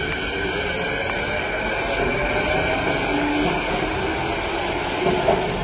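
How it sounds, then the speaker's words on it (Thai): An electric skytrain runs with a steady, loud rumble and rail noise, continuous and close throughout. "รถไฟฟ้าจอดที่สถานเอ้ยรถไฟฟ้าจอดที่สถานีจุดหมายเพื่อส่งคุณลง"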